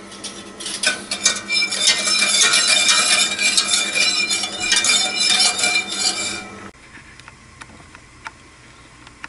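Utensil stirring dipping sauce in a pot over medium heat, a busy, steady scraping and clinking that runs loud and close for several seconds, then drops to a quieter background with faint ticks.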